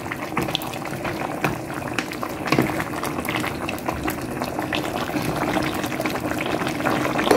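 Chicken curry bubbles in a cooking pot on the stove, a dense, steady simmering hiss with scattered pops and crackles throughout, close up and without speech.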